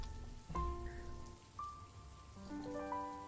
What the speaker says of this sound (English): The sound of rain crashing against the house